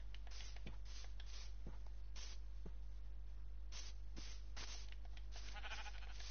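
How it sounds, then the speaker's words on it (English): Sheep in Minecraft bleat in short bursts over a steady low hum, several calls spaced irregularly, moderately close and fairly faint. "We find sheep"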